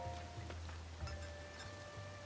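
Steady, faint rain falls in The Legend of Zelda: Tears of the Kingdom, a soft hiss with light patters and a few thin tonal blips on top.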